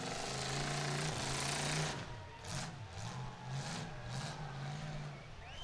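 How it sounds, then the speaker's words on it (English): A full-size car's engine cranks and revs during a youth demolition derby, with a loud rough roar at first, then wobbling pulsing revs and crowd-like noise behind. "They can't hear their engine cranking."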